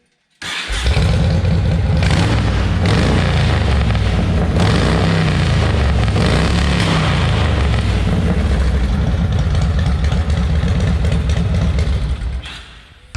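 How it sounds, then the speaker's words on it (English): A cold motorcycle engine with a fuel delivery fault fires up and settles into a loud, steady close idle that runs unbroken for about twelve seconds before cutting off. "so it'll start and idle just fine"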